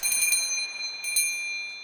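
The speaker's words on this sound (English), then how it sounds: "the bell over the door tinkled softly" A small shop doorbell over a door tinkles softly, two quick bright jingles with ringing overtones that linger and fade, close and alone with no voices.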